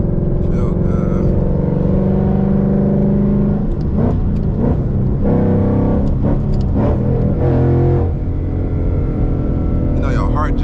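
A Ford Mustang being driven gives a steady, loud engine drone that holds throughout, with someone talking over it.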